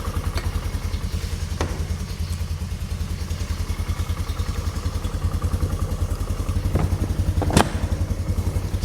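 A cheap four-wheeler ATV engine idles steadily up close with a fast, even low-pitched putter, and a few light clanks and thuds sound over it, with no voices.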